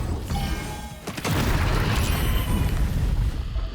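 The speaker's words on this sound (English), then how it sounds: "I could just blow them up, I guess, using sharpshooter" Explosion in Baldur's Gate 3, triggered with a fire-damage sharpshooter attack, lands as a loud rumbling boom about a second in, with a dense low roar that sustains to the end.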